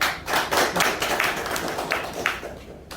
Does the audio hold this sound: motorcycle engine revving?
no